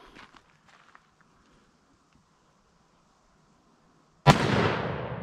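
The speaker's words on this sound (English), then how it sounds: "All right, 500 Smith & Wesson, hand cannon." One very loud, sharp gunshot from a .500 Smith & Wesson revolver, the hand cannon fired at about 75 feet during an AR500 steel armor test, cracking out after a few seconds of near silence and leaving a long fading echo.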